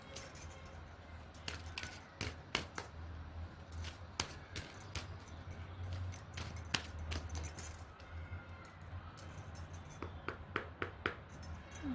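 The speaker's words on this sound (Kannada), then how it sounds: "2 ಕಾರ್ಡ್ ಬಂದು ಶಫಲ್ ಮಾಡ್ತೀನಿ." Tarot cards are shuffled by hand in quick, irregular bursts of soft flicks and riffles, close and quiet, repeating through the stretch with brief pauses between.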